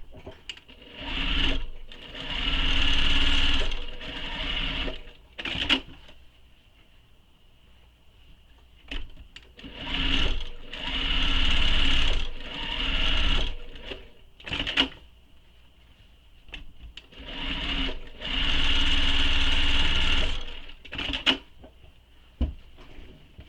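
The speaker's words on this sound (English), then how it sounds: "Now I'm going to top stitch these 3 mountain folds here." A sewing machine topstitches three mountain folds on a mini messenger bag in repeated bursts of rapid mechanical whirring, a few seconds each, separated by pauses with small clicks and handling noises.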